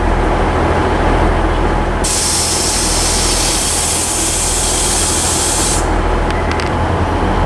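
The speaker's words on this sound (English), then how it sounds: "approaching now is 1056 ScotRail service from Edinburgh to Dunblane" A ScotRail train arriving at Stirling station, a steady loud rumble and roar with a strong hissing wash across the middle of the clip as it draws in, fading toward the end.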